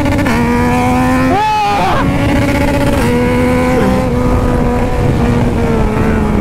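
A remapped Yamaha Tracer motorcycle accelerates hard, its loud engine note climbing and then dropping at quick gear shifts, heard close and continuous under faint voices.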